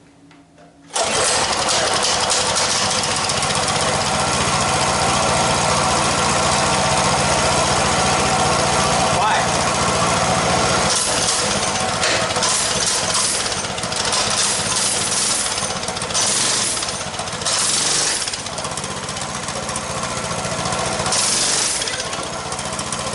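Coleman BT200X minibike engine started with choke and fuel on, then running loud and rough for over twenty seconds with a rapid rattling putter close by, some revving variation near the end.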